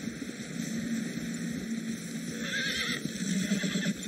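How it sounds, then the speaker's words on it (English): Several horses in the Western video game Red Dead Redemption II whinny over steady clip-clopping hooves, set against a continuous outdoor ambience and fairly close. "Horses, quite a few of them."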